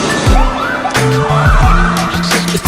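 An ambulance siren wails in repeated rising and falling sweeps, loud and close, layered into a song alongside a deep pulsing bass and sharp percussive hits.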